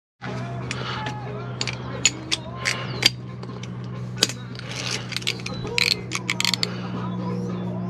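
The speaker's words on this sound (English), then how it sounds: "Now we're gonna start unbolting the fan shroud." Fan shroud bolts coming off a 2008 Dodge Ram 1500 with its 4.7 V8, heard as irregular metallic ratchet clicks, clinks and taps from hand tools close by, over a steady low hum.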